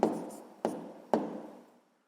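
Three short strokes of a pen or chalk writing an answer, each a quick scratchy onset fading away, close by and fairly quiet, then silence.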